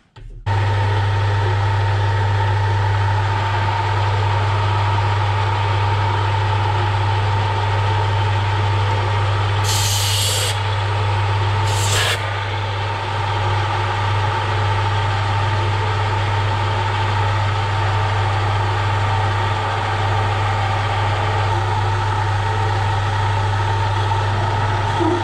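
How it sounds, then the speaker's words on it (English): A metal lathe turning an A.J.S brake pedal runs at higher speed with a steady, loud hum and a strong constant low drone, unbroken for the whole stretch apart from two brief high scrapes near the middle. "speed the lathe up to that last fraction, see what sort of result I get"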